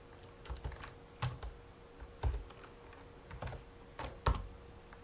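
Typing on a computer keyboard while naming a new folder, a short close run of soft plasticky key clicks in uneven small clusters, alone in a quiet room.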